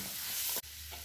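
Restaurant-style chicken curry with curry leaves, green chillies and coriander is stirred in a hot pan, a short close scrape and sizzle broken by a sharp clatter of the spoon.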